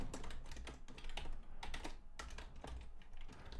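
Rapid typing on a computer keyboard while entering code, a dense run of quiet, close key clicks with short pauses between bursts.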